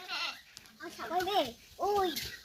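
Two wavering, nasal bleats from a young goat, close by, the second following shortly after the first with a brief pause between.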